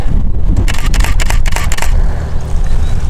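Rapid bursts of SLR camera shutter clicks fire in a quick series, a burst of sharp mechanical snaps, loud and close, followed by quieter handling noise.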